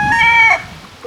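A chicken gives a brief, loud, close squawking call that fades into quiet farmyard background.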